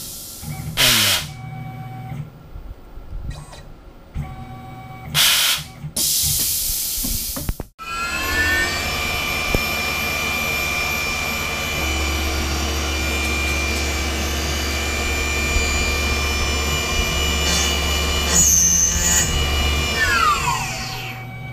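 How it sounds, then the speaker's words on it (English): Tormach 1100 CNC mill countersinking a hole in aluminum with a 5/16 end mill: after some brief machine bursts and pauses, a steady high whine of the spindle and cutting runs loud and continuous, then winds down near the end. "we're going to go ahead and countersink with a 5/16 end mill"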